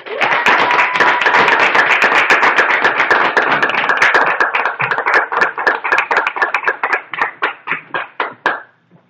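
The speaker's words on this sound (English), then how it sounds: "So please clap it up, give it up for Erin Eggleston." An audience at a poetry slam applauds a poet, loud dense clapping that thins into a few scattered, separate claps before stopping.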